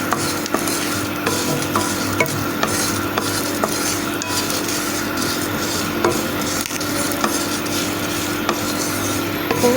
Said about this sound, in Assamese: এতিয়া মই প্ৰথমতে মছলাখিনি ভাজি ল'ম।